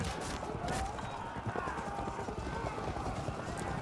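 Cavalry hooves from the medieval strategy game Field of Glory II, French versus English, form a steady clattering rumble of horses on the charge that sounds fairly quiet and distant throughout.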